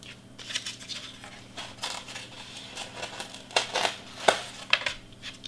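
Cutting through the Baby Grinch party prop with repeated snipping and crunching strokes, a series of close, irregular cuts with a few sharper clicks, no talking.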